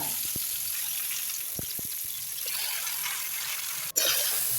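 Oil sizzles steadily in a pan as elephant apple fries with dried red chillies, with a few faint knocks and a sharp clink near the end.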